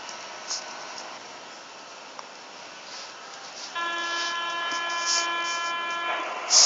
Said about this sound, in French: Il y en a une métro qui arrive.